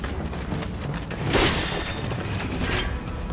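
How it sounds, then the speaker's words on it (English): Whirring, clanking machinery in Final Fantasy VII Rebirth, a steady mechanical drone with a louder metallic surge midway, continuous and fairly close throughout. "I hear the whirring of machinery."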